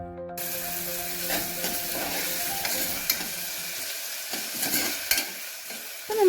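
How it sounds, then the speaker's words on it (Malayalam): Onions frying with a pinch of salt, stirred steadily in a hot pan with continuous sizzle and occasional scraping clinks of the spoon against the pan, close and alone. "ഉള്ളി പെട്ടെന്ന് വാടാനായിട്ട് നമുക്ക് കുറച്ച് ഉപ്പും കൂടി ഇട്ട് കൊടുക്കാം."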